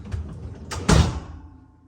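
A Kenmore refrigerator door swings shut nearby, a soft sliding whoosh followed by one solid, muffled thud that quickly fades, with no talk.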